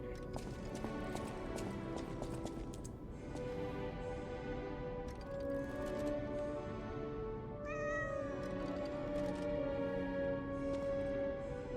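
A cat meows in the video game Lies of P, giving several drawn-out calls over a busy, steady background of game sound and soft rhythmic clopping.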